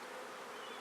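Dense, steady buzzing of many honey bees at an open hive during the July main honey flow, loud and continuous with no voices.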